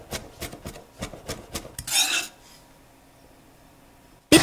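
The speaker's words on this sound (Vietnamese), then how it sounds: "Mình băm nhỏ hành tím nè, khoảng 4 củ nhỏ như thế này." Knife blade on a cutting board mincing about four small shallots: quick, even chops close by, then a brief scraping sweep across the board, followed by quiet.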